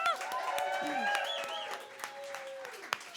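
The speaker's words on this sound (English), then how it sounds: "Keep another round of applause for Hee Sung Kim." Audience applause rises at the close of a live comedy show, a sustained patter of clapping from the crowd with scattered cheers and whoops, while a host speaks over the noise.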